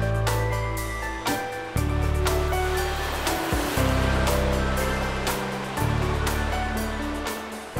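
Heavy surf surges and crashes repeatedly against rocks, a deep continuous roar of water with rhythmic swells breaking close by.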